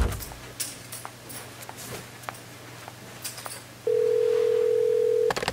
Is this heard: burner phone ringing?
yes